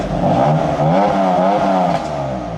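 A BMW M2 in Sport Plus mode with its exhaust valves open revs hard. It gives a loud, close, rasping rise and fall in a few short surges, with no talking.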